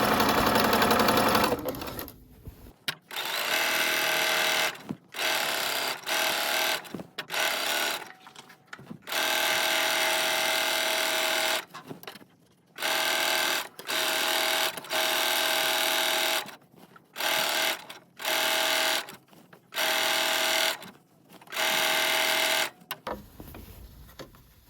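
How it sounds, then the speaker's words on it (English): A sewing machine stitches close to the edge of a wrap dress in repeated loud whirring runs, each a few seconds long, separated by brief pauses, with no talk. "I'm going to stitch close to the edge all the way around."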